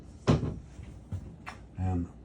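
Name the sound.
solid wood bathroom door in a coach opening or closing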